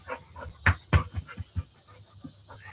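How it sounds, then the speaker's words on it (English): Dogs panting loudly and close by, a quick irregular huffing rhythm with a few stronger breaths, no talking. "they're panting very loudly."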